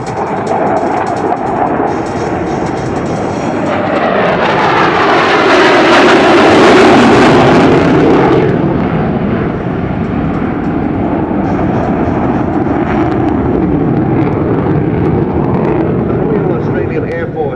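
An F-111 jet making a flying display pass at the 2010 Singapore Air Show, a loud roaring engine rumble that swells to a peak and fades, with a whooshing sweep as it passes, sustained to the end.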